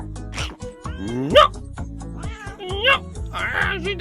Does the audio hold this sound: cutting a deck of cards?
no